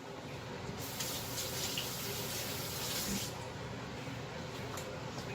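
Hot water pours steadily from a kitchen tap while chili gravy for enchiladas is being made, a continuous, fairly loud rushing splash that holds even from start to finish.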